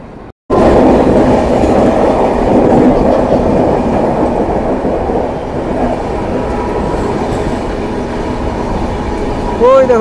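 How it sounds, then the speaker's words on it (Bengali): Haldibari Intercity Express train arriving near Jalpaiguri Road, a loud steady rumble of wheels and carriages rolling past close by, with a brief squeal of wheels near the end. "ওই দেখা আসছে। Haldibari intercity express"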